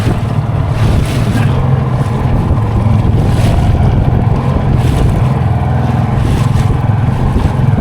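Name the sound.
sea waves around a boat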